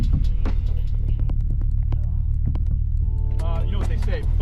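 A Ford Focus RS500, one of 500 built, idles with a deep steady engine rumble and throb, then pulls away; people talk over it.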